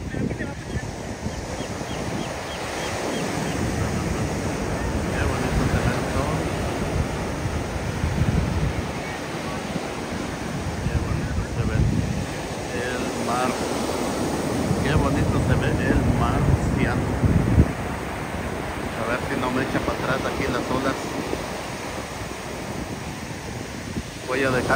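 Big ocean waves roll onto a beach, a steady rushing surf mixed with wind buffeting the microphone, while people talk over it throughout.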